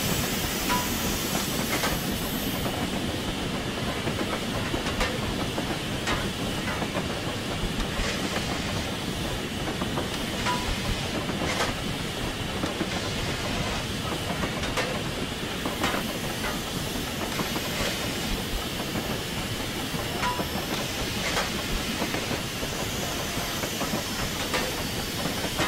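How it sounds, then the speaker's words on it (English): A Peppercorn K1 steam locomotive running in Train Simulator 2016 on the West Highland Line Extension in Scotland, with a steady loud steam hiss, engine rumble and faint clickety-clack of wheels, continuous for the whole stretch with no talk. "Now you understand why old steam locos are so rusty."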